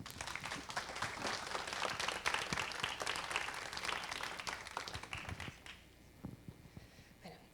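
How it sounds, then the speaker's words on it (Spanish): An audience at a Medellín planetarium talk on astronomy for the blind claps loudly and continuously, then the applause thins out into a few scattered claps near the end. "Recibamos con un fuerte aplauso"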